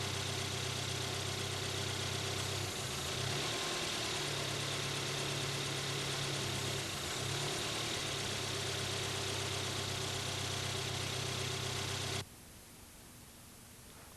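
A car engine with a TCCS fuel-injection system idles steadily and evenly at close range for about twelve seconds, a low continuous hum with no talk, then cuts out abruptly to near silence.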